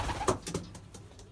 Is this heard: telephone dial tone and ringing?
no